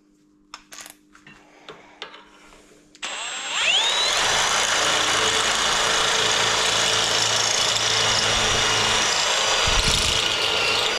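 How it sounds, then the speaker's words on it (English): A power drill bores into a part from an MGB 1.8 engine, starting with a whine after a few metallic clicks and ticks, then a loud, steady grinding drone that runs on close by. "I've drilled down to about 10 mil below that step there"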